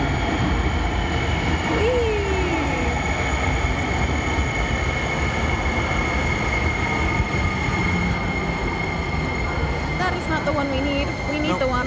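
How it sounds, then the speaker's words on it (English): A light rail train rumbles past close by with a steady loud roar, a brief wheel squeal and metallic rail noise, while people talk faintly underneath. "And there's a train coming behind us."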